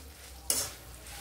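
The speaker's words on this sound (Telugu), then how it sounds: "పండుమిరపకాయని మనం బాగా వేయించుకోవాలి" Red chillies frying in a pan over a low flame as a single short stir scrapes through at mid-volume, with a faint sizzle beneath and no voices.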